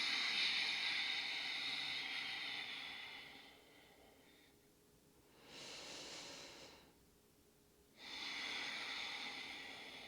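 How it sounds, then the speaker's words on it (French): Slow, audible ujjayi yoga throat breathing through the nose, mouth closed, with a soft hissing, wave-like rush on each long inhale and exhale, close and steady with quiet pauses between breaths. "une respiration par la gorge, où l'on crée le son des vagues"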